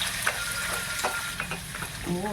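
Pork sizzles and fries in a pan with sautéed garlic, a dense steady crackle with occasional stirring scrapes, close and loud.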